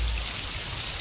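Steady rain falls outdoors, a dense continuous hiss of drops that is fairly loud and unbroken with no voices over it.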